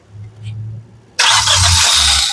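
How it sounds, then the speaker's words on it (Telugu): A 2019 Hyundai Venue SX petrol car engine cranks briefly and catches on a single start, jumping from a low idle rumble to a loud, steady running roar close by, with faint talk before it. "సింగిల్ సెల్ఫ్ లో కార్ స్టార్ట్ అవుతుంది"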